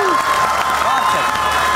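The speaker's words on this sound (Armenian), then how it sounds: "Եվս մեկ անգամ ծափարենք" An audience at the final of a live stage comedy competition claps in a dense, steady wash while a host's voice carries over the top.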